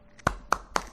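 Three sharp, spaced hand claps ring out close and crisp in a quiet room, each a single clean crack with silence between, no voices over them.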